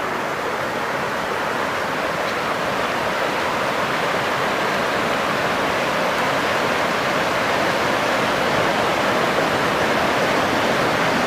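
River water rushing steadily in a village river where a broken water-supply pipe lies on the bed, a loud, continuous broadband roar with no breaks or voices.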